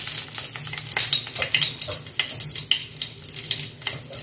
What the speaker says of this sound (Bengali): তেলটা গরম হয়ে গেছে, আমি এবার এর মধ্যে দেব দুটো শুকনো লঙ্কা